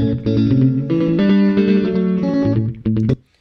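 Echo in a phase cancellation audio demonstration: a processed tone repeats with a hollow, doubled, effect-heavy character, loud and steady before it cuts off sharply, with no voices.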